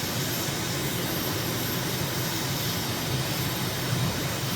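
Aircraft jet engine roaring steadily while climbing after takeoff in Microsoft Flight Simulator, a dense, loud, unbroken broadband drone with no pauses.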